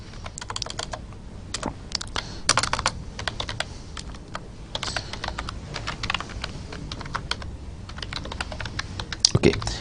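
Rapid computer keyboard typing while entering C++ code, with quick irregular clusters of sharp key clicks close by, a few louder strikes standing out, and no voice over it.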